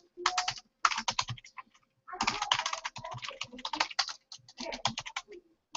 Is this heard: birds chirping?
no